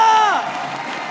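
An esports arena crowd at a Mobile Legends match between RRQ and EVOS cheers loudly in a dense, roaring wash that starts with a brief tonal sound and then settles into steady crowd noise.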